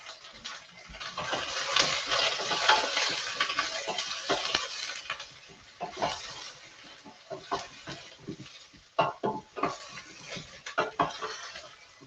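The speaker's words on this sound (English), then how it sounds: "The stirring we do when you're not doing a stir." A spoon stirs and scrapes through zucchini, pea and basil soup in a pot, a steady close run of rough swishing and clinking with short irregular bursts toward the end.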